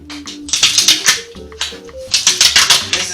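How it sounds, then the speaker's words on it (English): Stickers peeled off cutting boards, giving close, crisp tearing and crackling bursts in quick clusters, with low background hum and a faint tonal sound underneath. "So I'm going to take the other two stickers off"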